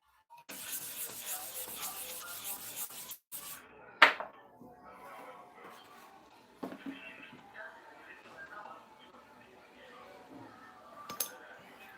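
A barber clipper blade is rubbed back and forth on a sharpening stone in a steady run of close, gritty strokes for a few seconds, followed by a few clinks and softer scraping while a person talks.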